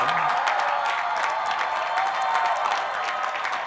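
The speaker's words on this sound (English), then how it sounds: "please do applause for these graduates" A commencement audience applauds graduates steadily, a dense, even wash of clapping hands that holds at the same loudness throughout.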